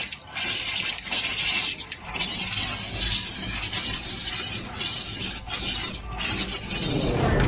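Water runs steadily from a sink tap, a continuous rushing and splashing stream that stays fairly loud and even throughout, with no voices.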